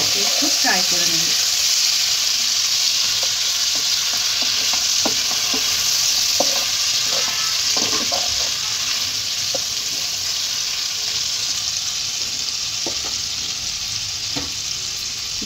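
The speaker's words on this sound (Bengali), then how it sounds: "দিয়ে চিকেনটাকে আমি ভালোভাবে একটু ফ্রাই করে নেব।" Marinated chicken fries in a pan over medium heat with a steady, loud sizzle, while occasional stirring clinks and scrapes come through.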